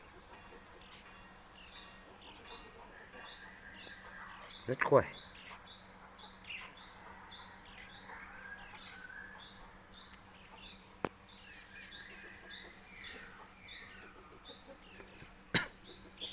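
Three white-eye chicks close to fledging chirp in their nest, fed on ripe banana, giving thin, rapid, regular peeps throughout at close range, with someone talking quietly at times.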